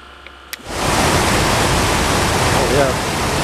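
A click, then a restored A/C condenser fan motor from a Buick whirs up into a loud, steady broadband rush that holds constant, close to the microphone, during a loaded function test.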